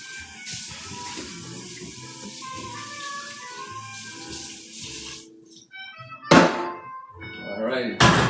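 Water runs into a kitchen sink as cookware is rinsed while cooking a vegan stir fry, a steady splashing stream that stops, followed by a couple of sharp clanks of the pan, with a voice briefly over it.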